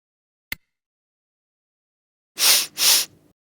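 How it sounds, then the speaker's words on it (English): A person sniffs twice in quick succession, two short loud breathy inhales through the nose heard alone after a brief click, then quiet. "Smell by breathing in quickly."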